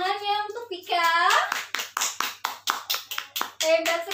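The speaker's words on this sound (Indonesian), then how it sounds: "Tepuk tangan ya untuk Vika." Children in a school classroom clap together for a classmate, a run of about eight sharp, fairly even claps under and between a voice speaking, near and moderately loud.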